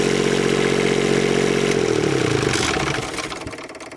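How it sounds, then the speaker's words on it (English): RV generator running during basic maintenance produces a loud, steady engine drone close by, then winds down and fades as it shuts off. "you want to turn the generator on and then let it run for a minute or two"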